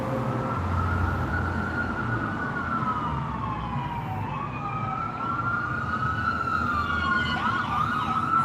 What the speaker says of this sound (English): Oh, we did hear a siren.